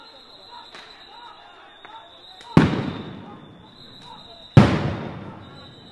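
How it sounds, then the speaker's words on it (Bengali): Police sound grenades explode at a street protest at Shahbagh in Dhaka, two loud sharp blasts a couple of seconds apart with echoing tails, over a faint steady whine and distant crowd noise. "একদিক থেকে পুলিশ সাউন্ড গ্রেনেড মারছে, লাঠিচার্জ করার চেষ্টা করছে"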